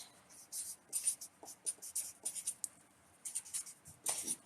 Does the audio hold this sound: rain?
no